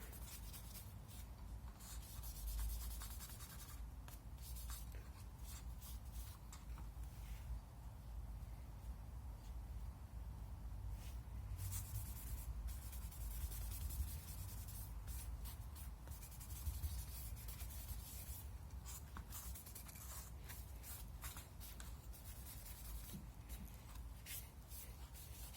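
Steady scratchy rubbing as finish is worked by hand into the wooden stock of a Savage/Fox Model B shotgun, continuing at an even pace throughout with small shifts in pressure and no talking.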